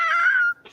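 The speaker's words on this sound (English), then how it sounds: "you can hear an eagle screech and everything" Eagle screech from a movie soundtrack: a single high, wavering cry lasting about half a second, moderately loud and alone, followed by a faint short rustle.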